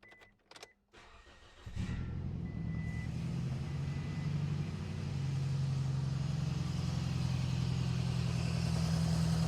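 A 2005 Toyota Scion xB engine starting and then idling with a misfire, a low uneven rumble with a steady rhythmic stumble, close and continuous after a brief cranking sound.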